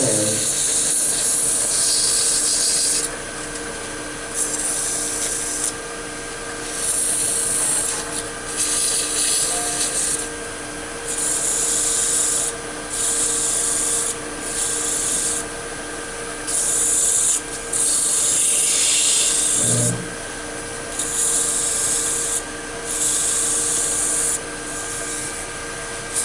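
Hand sanding with 220-grit sandpaper on a glass tube holder, long rhythmic rasping strokes, loud and close, in repeated bursts with short pauses between them.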